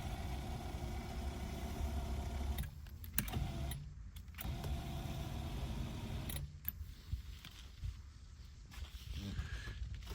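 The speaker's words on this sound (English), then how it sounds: "Power seat works." An electric power seat motor whirs in a 1978 Chevy Monte Carlo T-Top, quiet stop-start humming runs separated by brief pauses, close and without talk.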